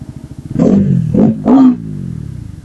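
A Bajaj Pulsar NS400Z motorcycle ticks over at idle, then revs sharply twice in quick succession, close and loud, before dropping back to a lumpy, pulsing idle.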